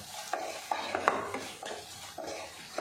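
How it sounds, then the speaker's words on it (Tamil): Masala for raw mango rice being stirred and sautéed in oil in a pan, with a steady run of close scraping strokes over a soft sizzle, each stroke landing roughly every third of a second. "எண்ணெயெல்லாம் பிரிஞ்சு வர அளவுக்கு இந்த மசாலாவை நல்லா வதக்கணும்."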